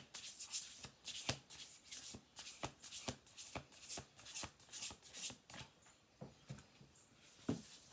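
Oracle cards are shuffled close up in a rapid series of crisp riffling bursts, repeated rhythmically with short pauses between.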